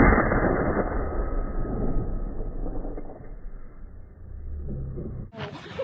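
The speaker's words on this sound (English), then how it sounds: "You're shooting a gun." A shoulder-fired gun goes off outdoors in a loud, blasting report, followed by a broad rumbling echo that trails away over several seconds; another sharp crack cuts in near the end.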